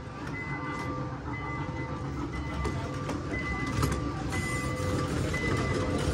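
A train passes in Orlando with a steady, moderately loud rumble and rolling noise throughout, faint intermittent tonal hums and squeals riding on top, with no talk.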